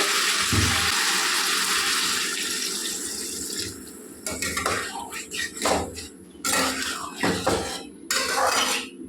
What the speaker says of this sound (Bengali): এবার আমি তরকারিটা জল দিয়ে দেবো